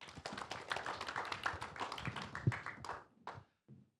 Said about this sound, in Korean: 박수 크게 치셔도 됩니다.